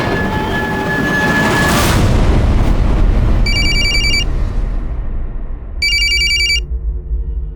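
A telephone bell rings in two short bursts, a few seconds apart, over a loud, rumbling, train-like background during a Hindi crime drama scene.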